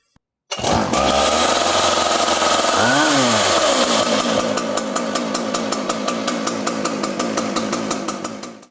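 An ICS 695 series saw starts with a brief pull of the starter cord, then the engine catches loudly and revs up and down before settling into a steady, close, buzzing run that fades at the end.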